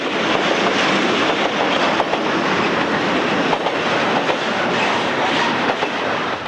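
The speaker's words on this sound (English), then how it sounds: "The C30-7s in the lead were delivered in UP yellow in 1985, and they were the last locomotives ordered by the Missouri Pacific." Union Pacific freight train led by 1985 C30-7 locomotives passing on the line, a loud, dense roar of rumbling wheels and rail noise with clattering bursts throughout, close by and steady.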